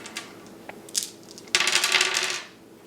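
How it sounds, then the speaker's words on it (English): Four dice clatter across a table in a tabletop board game, a few scattered light clicks followed by a dense rattling burst of dice tumbling and settling, close and alone. "I'm still at 4 dice, so I'll roll 4."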